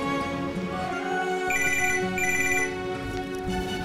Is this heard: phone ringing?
yes